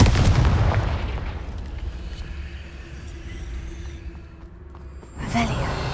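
A Confringo fire spell from Hogwarts Legacy bursting with a loud, booming blast that rolls off into a fading rumble, then a second sharp burst near the end.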